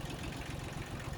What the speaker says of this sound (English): as I'm sure you can hear, we got the tractor going